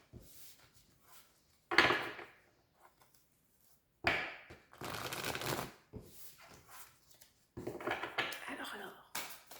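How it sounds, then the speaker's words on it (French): Tarot cards being shuffled for a reading, coming as a few brisk bursts of riffling and card handling at close range, separated by quiet pauses. "On va tirer deux petites cartes pour voir un petit peu l'ambiance du jour."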